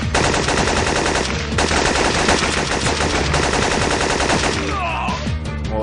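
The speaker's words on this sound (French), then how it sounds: "je vais prendre le M16, même si c'est pas mon arme favorite du jeu" Loud, sustained automatic bursts of M16 rifle fire in a video game, rapid continuous shots for about five seconds ending in a scatter of debris and impact sounds.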